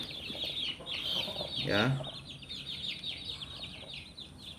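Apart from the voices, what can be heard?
sick chicken with a cold, clucking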